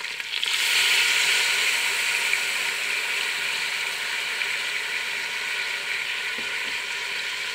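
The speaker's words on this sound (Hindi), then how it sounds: "अब इसके अंदर हम लहसुन अदरक का पेस्ट जो बनाया हुआ है तो वो डाल देंगे।" Garlic-ginger paste hits frying potatoes in hot oil for aloo matar, bursting into a loud, dense sizzle that settles into a steady hiss, with a brief scrape near the end.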